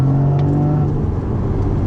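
A Porsche Boxster Spyder engine hums loudly and steadily from inside the cabin during hard cornering, a low droning note with road rumble, holding a constant pitch rather than climbing.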